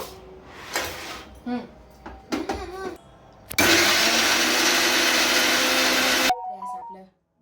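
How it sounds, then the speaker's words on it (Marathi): A mixer grinder grinding chillies and garlic roars loudly for about three seconds after someone speaks, then cuts off as she continues talking. "हे मिक्सरला मी फिरवून घेते"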